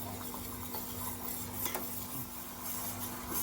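Sugar syrup bubbles steadily in a pan over a medium gas flame, with quiet scraping stirs and a constant low background hum, fairly faint and without talk.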